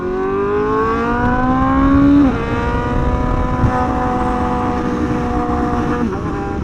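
A loud motorcycle engine drones close by, with a steady harmonic tone that dips sharply as the bike shifts or eases off, then settles into a sustained, strong hum with slight wavering.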